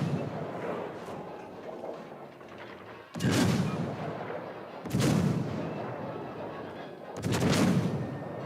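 Battleship main guns firing high-explosive shells in the naval video game World of Warships: Legends: three heavy booming salvos roughly every two seconds over a steady rumbling battle background.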